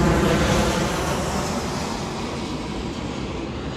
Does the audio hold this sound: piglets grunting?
no